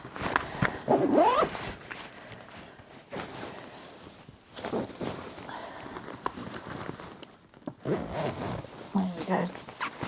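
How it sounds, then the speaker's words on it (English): A zipper is drawn around a packed 50-litre travel backpack in a couple of quick rasping pulls, then comes the shuffling of the bag being handled. Someone talks close by. "Let's zip it up just to prove that it's all in there."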